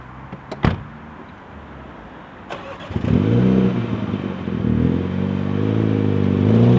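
A 2019 Mini Cooper S: a couple of sharp door and key clicks, then the engine cranks and fires, settling into a close, steady idle and rev as the car moves off.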